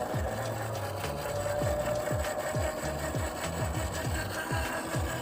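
A steady, high-pitched electric motor whine from a B5 electric dirt bike runs continuously, with rhythmic clattering and revving ticks underneath, close and loud.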